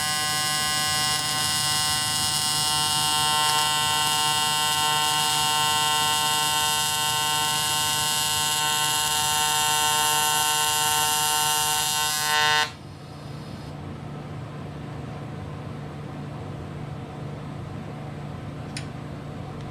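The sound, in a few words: welding cast aluminum Harley engine mount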